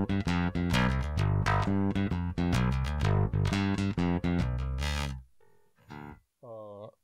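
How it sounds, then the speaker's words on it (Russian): Bass guitar played through a CardBass pedal's funk effect: a fast, punchy run of plucked notes with bright, filtered attacks, loud and alone, ending in a few sparse, quieter notes. "Следующий эффект – это эффект фанк."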